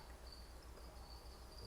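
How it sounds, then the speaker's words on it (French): Feeder crickets, house crickets and black crickets, chirp in a steady, continuous high trill that sounds close and fairly faint, with no voices. "Vous allez avoir les grillons domestiques et les grillons noirs."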